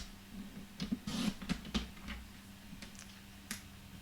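Paper card being cut into narrow strips along a ruler, a quiet cluster of sharp snipping clicks close up, then a few sparse ticks.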